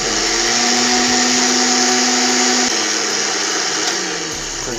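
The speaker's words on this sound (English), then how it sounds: "Next, let's put it in the blender, any kind of blender you want." A countertop blender runs steadily, loud and close, whirring through cauliflower soup with a sustained motor drone that shifts pitch slightly partway through as the load changes, then winds down near the end.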